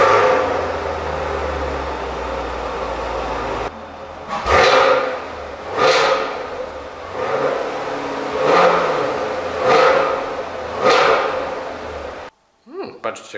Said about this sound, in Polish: To co pewnie chcecie posłuchać wydechu.